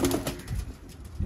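Mir pigeons, including young birds, coo softly in a short, low burst of throaty calls, close by, with no one talking.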